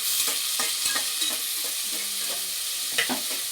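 Onions fry in a pan for chicken biryani, giving a steady hissing sizzle broken by repeated scraping strokes of a spoon stirring them, close and moderately loud with no voices.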